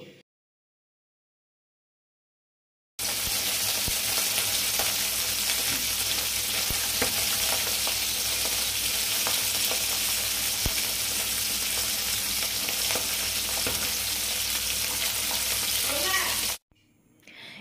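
Steady, loud sizzling of garlic and five-spice seeds frying in leftover fish-frying oil in a wok, running unbroken for several seconds after a silent start and cutting off abruptly.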